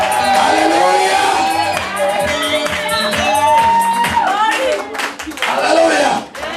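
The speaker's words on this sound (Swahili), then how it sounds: "Pigia Bwana Yesu makofi mazuri." A church congregation claps for Jesus: rhythmic clapping mixed with shouts and whoops, loud and close, under a strong voice calling out over the crowd.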